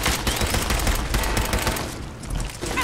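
Rapid gunfire from Fallout 4, a dense, loud, sustained fusillade of automatic shots that fades slightly toward the end.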